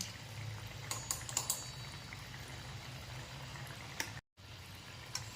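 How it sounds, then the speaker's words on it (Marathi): Semolina vadas deep-fry in hot oil with a steady, close sizzling hiss and occasional sharper crackles, unbroken apart from a brief dropout near the end, with no talking. "एकसारखं हलवत राहायचं आहे आणि सोनेरी रंगावर आपल्याला तळून घ्यायचं आहे"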